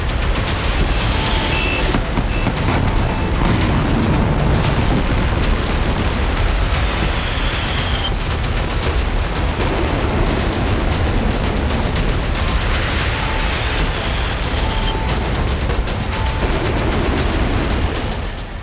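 Russian military missile launch: a loud, sustained roaring rush of noise across the whole clip, with blast-like surges and faint beeping tones at intervals, no speech.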